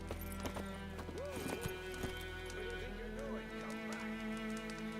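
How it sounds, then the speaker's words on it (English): Roach, Geralt's horse in The Witcher video game, gallops with steady rhythmic hoofbeats and a whinny, mixed with game music tones while a streamer talks over it. "And now we have Roach! Geralt names every single one of his horses Roach."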